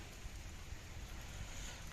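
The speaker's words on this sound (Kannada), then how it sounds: "ಮಳೆ ಸಿಕ್ಕಾಬಿಟ್ಟೆ ಮಳೆ ಬರ್ತಾ ಇದೆ" Steady rain falls at a quiet, nearly empty taluk railway station at Talguppa, heard as a dense, even wash of noise with no distinct drops and no voices.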